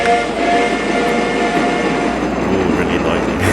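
Trains in the mobile game TrainStation 2 rumble along steadily, with a dense, continuous rolling wash and a faint horn-like tone, playing alone at close range.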